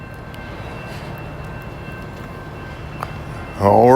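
A train rolls past on a main line near Hamilton with a steady, moderately loud low rumble, and a louder, sweeping tonal sound breaks in at the very end.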